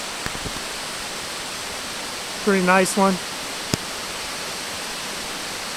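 Crabtree Falls, a waterfall near Montebello in Nelson County, Virginia, gives off a steady, even rush of falling water throughout, with a short burst of conversation rising over it midway and a faint click later on.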